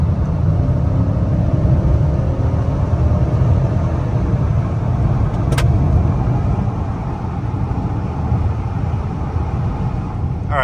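A Dodge Charger with a 5.7 Hemi holds a steady, dense engine and road rumble from inside the car, with no clear rise in pitch or pause throughout.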